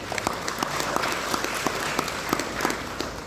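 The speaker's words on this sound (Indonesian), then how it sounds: "Tepuk tangan untuk beliau." Applause from an audience at a youth organization training event in Blitar, Indonesia, welcoming the regent. Steady, moderate clapping with a few sharper individual claps standing out, continuous for the whole stretch.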